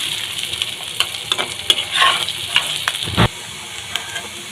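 Potatoes frying in hot oil in a wok with salt and turmeric, a steady close sizzle broken by scraping stirring strokes and a louder clatter near the end.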